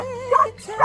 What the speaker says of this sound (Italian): Non è facile con questo abbaio che fai sempre tu.